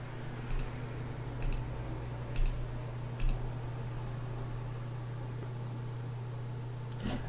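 Four sharp mouse clicks, spaced about a second apart, while stepping through a software installer's default options, heard close and crisp over a steady low electrical hum.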